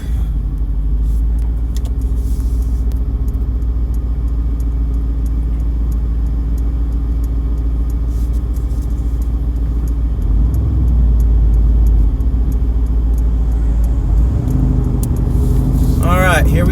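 A 2020 Mercedes-AMG GT R twin-turbo sports car drives along a road in Mexico with a loud, steady low engine rumble heard from inside, building and revving higher toward the end.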